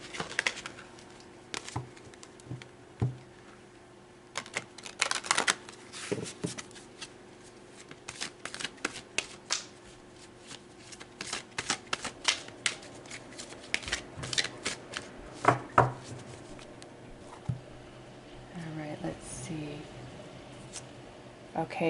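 Tarot cards are shuffled and drawn during a reading, giving soft riffling bursts and sharp flicks scattered across the stretch, with a voice talking at times between them.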